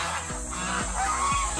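Several geese honking close by in a flock at a market in the Philippines, overlapping calls with a few sharp nasal honks rising above the noisy background.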